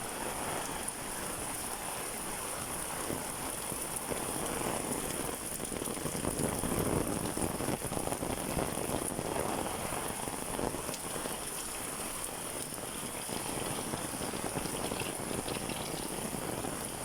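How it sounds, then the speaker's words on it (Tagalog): Heavy rain pours steadily, a dense, constant hiss of drops drumming on surfaces, close and loud with no letup. "Lumakas naman ang ulan."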